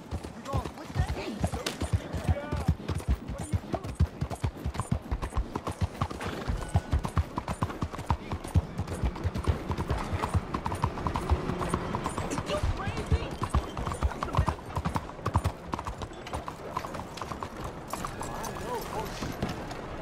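Horse hooves clip-clop in a steady, close rhythm in Red Dead Redemption 2, with occasional voices speaking over the hoofbeats.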